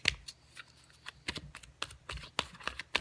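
Tarot cards shuffled by hand in quick irregular riffles and slaps, close and fairly quiet, with no talking.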